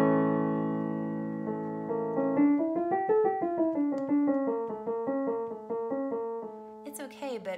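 Solo piano plays the right-hand melody of a piece alone, a single line of moving notes over a sustained opening with no left-hand accompaniment, clear and close throughout.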